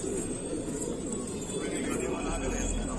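Soft, low cooing of pigeons against a constant background hum, with someone talking over the birds throughout.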